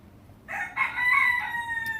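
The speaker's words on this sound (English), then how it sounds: "Every time I talk, this rooster goes off" A rooster crows once, fairly close and loud, the call rising at the start and then drawing out into a long, strained tail that carries to the end.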